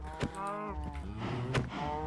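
Cows in a Minecraft hardcore world lowing in a drawn-out, close moo with a few clicky game sounds around it.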